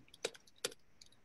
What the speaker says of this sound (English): just start typing, and it usually brings up what you've got